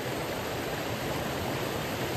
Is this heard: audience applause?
no